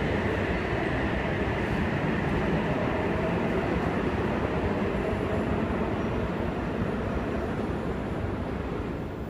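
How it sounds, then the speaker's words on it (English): A Cronulla via Cogarah service rolls toward platform 25 at Sydney Central station, a loud, even rumble that fills the whole stretch without voices. "Cronulla via Cogra service approaching platform 25"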